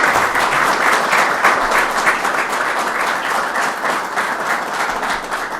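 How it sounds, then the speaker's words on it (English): Sustained audience applause at a Buffalo gun violence announcement honoring the city's police commissioner, thick continuous clapping from a sizable crowd, loud and steady from start to finish. "I want to give you a special round of applause for all you do here"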